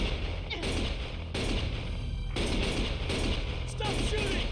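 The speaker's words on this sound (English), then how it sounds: "Stop shooting!" Gunfire in Lost Judgment comes as several loud, sharp volleys, each burst of shots lasting about a second and separated by brief lulls.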